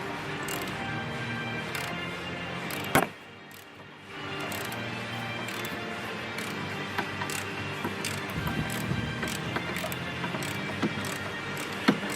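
A ratchet works a very long bolt loose on an EP3 Honda Civic Type R during a radiator install, with quick repeated clicking and metallic mechanical rattles up close, a brief pause near the start, then steady work continuing.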